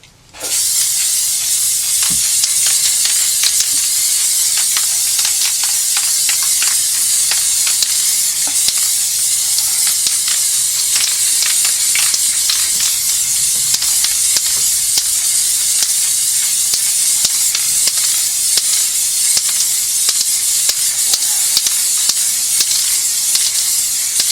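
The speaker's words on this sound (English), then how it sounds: "I'm gonna be spraying the last coat now" A continuous loud hiss of aerosol spray paint coating a rusty wheel runs steadily for the whole stretch, with slight crackling flutter and no voices.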